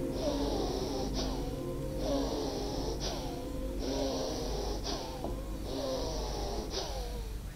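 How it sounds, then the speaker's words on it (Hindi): Forceful bhastrika yoga breaths, part of a daily five-minute exercise, come as a steady series of loud, rhythmic rushing exhalations and inhalations, close and continuous with no talking. "रोज 5 मिनट ये भस्त्रिका करना।"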